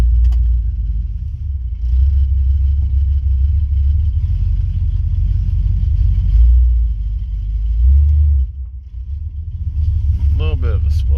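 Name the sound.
Cadillac engine running and spluttering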